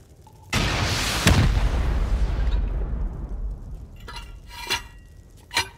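C4 explosive detonating during a raid in a video game, with a sudden loud blast and rumbling boom that decays over a few seconds, followed by scattered clinks of falling debris and sharp pops.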